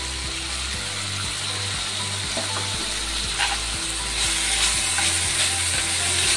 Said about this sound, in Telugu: ఇప్పుడు 2 టమాటా యాడ్ చేస్తున్నాను